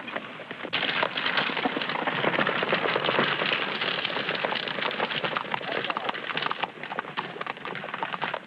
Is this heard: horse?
yes